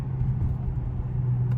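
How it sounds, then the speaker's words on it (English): A car's exhaust burbles at idle with a steady low rumble, fairly faint and close, with no distinct pops standing out over the short stretch. "A little bit of a burble there. Oh, some pops right there."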